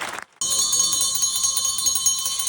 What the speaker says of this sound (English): among those ringing bells across the state today in honor of Carolina Day